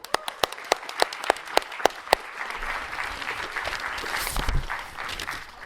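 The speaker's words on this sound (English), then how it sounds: "Let's give a warm applause to Patrick's section." A capstone festival audience applauds Patrick's section: a run of sharp, evenly spaced claps stands out close by at first, then gives way to a softer, diffuse wash of clapping from the wider crowd.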